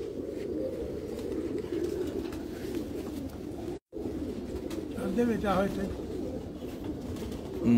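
Pigeons of the Heera Laal breed coo softly under a steady low background hum, with someone talking in Hindi over them and a brief dropout midway.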